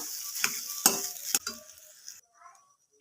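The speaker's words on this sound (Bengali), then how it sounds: "এবার মটরশুঁটির সাথে মশলাটা একটু কষিয়ে নেব।" Ground peas and spices fry briefly in a pan for a soft kachori filling, with several sharp stirring scrapes over a hiss that cuts off abruptly into near silence.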